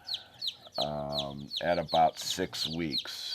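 Baby hen chicks in a farm brooder pen give high, rapid cheeps under a person talking nearby.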